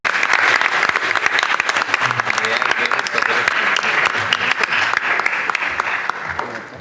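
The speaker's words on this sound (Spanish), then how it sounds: "Un aplauso, por favor, para ellos." Audience applause at a round-table closing session of a Chilean university conference: dense, steady clapping from a crowd that holds for about six seconds and then begins to taper off, with no voices over it.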